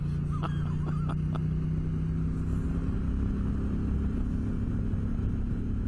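A motorbike engine drones steadily while riding through desert mountains, a constant low rumble with wind noise and a few faint clicks early on, with no speech.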